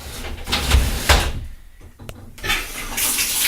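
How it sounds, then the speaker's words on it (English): Running water drains through a household sink, giving a continuous gurgling rush that dips briefly in the middle before surging back, close and fairly loud with no talking. "Let's make sure first how the water flows through the sink."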